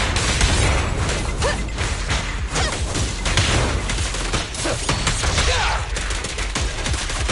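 Dense, loud, sustained gunfire fills the whole stretch in the video game Zenless Zone Zero, rapid shots overlapping into a continuous roar with heavy low-end impacts.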